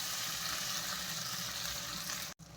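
Onion, tomato and green chilli frying in oil with cinnamon and cardamom, a close steady sizzle with light stirring, briefly cut off near the end, no voices.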